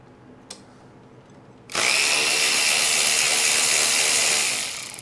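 A powered ratchet wrench works on the intake bolts of a Yamaha XS650 motorcycle, one loud continuous whirring burst that starts abruptly after a brief click and runs for about three seconds.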